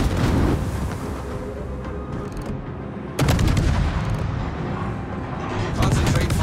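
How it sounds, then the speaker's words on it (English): Warship guns boom in a naval battle game, heavy repeated blasts with a sharp salvo midway, loud and close under a spoken command voice. "Concentrate fire on the enemy warship."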